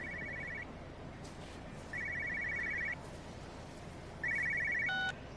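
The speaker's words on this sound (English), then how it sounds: "Cell phone ringing." A cell phone rings inside the video game Everybody's Gone to the Rapture: three separate electronic ring bursts, evenly spaced over a quiet hiss of ambient room tone, with no one speaking.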